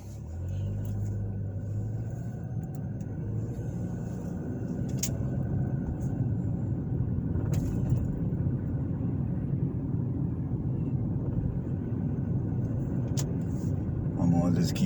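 Car driving through the Broad Ripple community of Indianapolis, a steady low engine and road rumble from inside the vehicle with a few faint clicks, continuous throughout, with speech heard at times.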